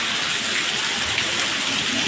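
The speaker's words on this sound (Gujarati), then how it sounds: "એકદમ ધોધમાર વરસાદ ચાલુ થઈ ગયો" Heavy monsoon rain pouring down at dusk, a dense, steady roaring wash with no letup, loud and close throughout.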